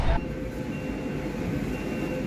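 A Sealdah–Howrah metro train rolls through the tunnel beneath the Hooghly river, a steady broadband rumble with a faint high whine, continuous and close throughout.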